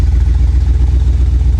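A rescued Chevy Corvette found in a Florida swamp, its engine running steadily with a low, loud, close rumble and a faint clatter, held at slightly raised revs.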